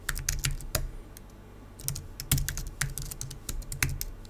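Irregular bursts of computer keyboard typing as a password is entered to log into a NetWorker administrator console, close and fairly quiet, with no talking.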